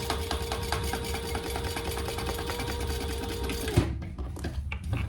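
A sewing machine runs a steady, fast stitching hum while sewing over the card slots of a handbag, then stops abruptly near the end, leaving a few faint handling clicks.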